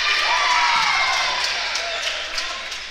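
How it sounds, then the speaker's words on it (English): Fans and the Salisbury bench erupt in loud, sustained cheering and shouting at a high school boys' basketball game, a dense roar that fills the gym and slowly eases off. "And there, Salisbury bench goes wild."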